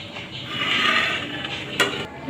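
Chicken liver curry in a Kerala style is stirred in a pan, a soft scraping swirl over a low sizzle, ending with a brief metallic clink, close and alone.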